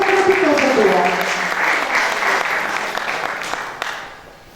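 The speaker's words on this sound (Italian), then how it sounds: "Quindi facciamo un applauso a questo strepitoso duo." Audience applause at a Neapolitan classic and street-song festival greets a duo of singer and mandolin guitarist, a dense, loud wash of clapping that holds steady and then fades out at the end.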